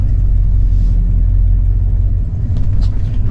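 1972 Cadillac Calais with a 472 engine rumbling loud and close, a deep steady low roar with a slight dip and swell partway through, no voices over it.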